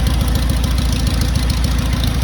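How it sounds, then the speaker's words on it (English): A restored Farmall tractor engine idles steadily on a temporary gas tank, with a loud, close, rhythmic low chugging and knocking throughout and no talk. "Tractor number 2 is running."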